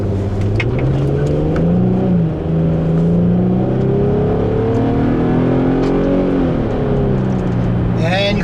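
A 2005 Infiniti G35x engine of 280 horsepower pulls hard and loud, its pitch rising steadily through the gear, dipping at a shift, then climbing again, heard from inside the car with no talk.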